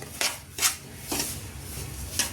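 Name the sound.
roasting semolina (rava) in a pan for sheera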